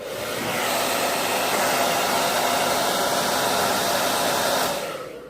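A hair dryer drying paint blows steadily and loudly for several seconds, a constant rushing whine, then shuts off.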